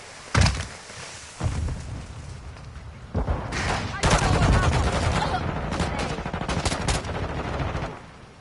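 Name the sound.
gunfire in Modern Warfare 2 video game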